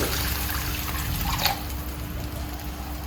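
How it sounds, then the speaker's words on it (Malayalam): A steady stream of water pours from a jug into a pan for vermicelli upma, a continuous close trickle with no talking. "അപ്പം ആ ഒരു ജഗ് വെള്ളം ഞാൻ ഇതിലേക്ക് ഒഴിച്ചു കൊടുക്കുന്നു."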